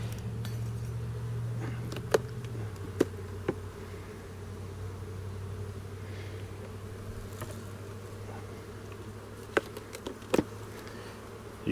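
Honeybees droning steadily inside an opened seven-frame nuc hive used for raising queens, a low sustained buzz close by, with occasional sharp clicks and taps of equipment.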